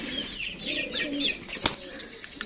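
Soft coos of Karbalai pigeons murmur close by, joined by a brief flutter of wings and faint chirps in a quiet room.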